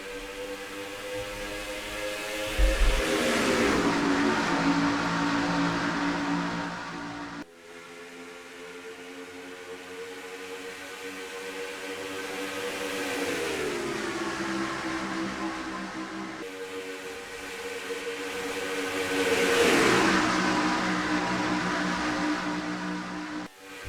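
NASCAR race cars in a racing video game accelerating from the green flag at Las Vegas, with steady, loud rising engine whine across several sweeps and a brief cut in the middle, no voices.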